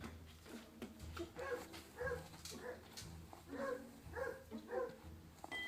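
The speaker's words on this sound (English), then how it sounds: "Can anybody hear a dog? I hear a dog." A dog somewhere off at a distance gives a string of faint, short yips and whimpering barks in an uneven rhythm over a quiet indoor background.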